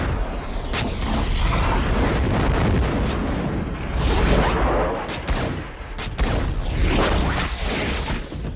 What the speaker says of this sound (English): Huge barrage of gunfire that we've all heard.